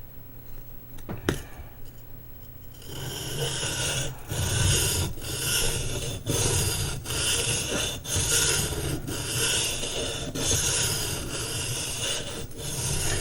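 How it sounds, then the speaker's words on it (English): A woodworking tool's steel edge is worked back and forth on a Baryonyx American Mutt sharpening stone, a close rhythmic rasping of repeated strokes after a quiet start. "this is how I sharpen a woodworking tool"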